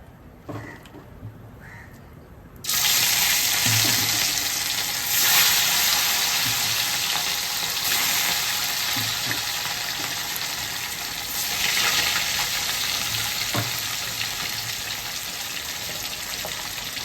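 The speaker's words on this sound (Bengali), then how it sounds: "তেল গরম হয়ে গেছে, মাছটা দিয়ে দিচ্ছি আমি।" Fish drops into hot oil for a Bengali fish curry, setting off a loud, steady sizzle and crackle that continues throughout, preceded by a few quieter kitchen sounds.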